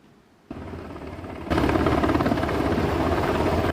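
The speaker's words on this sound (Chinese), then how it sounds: "直升机降落" A helicopter landing during a nuclear safety drill on the Hengchun peninsula, its rotor and engine roar loud and close, jumping sharply louder partway through and then holding steady with no voices.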